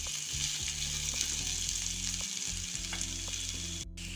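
Diced potatoes and onions frying on a low flame in a pan while being stirred, a steady soft sizzle with low scraping and clinking strokes throughout, no talk.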